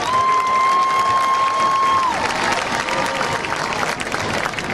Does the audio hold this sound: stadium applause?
yes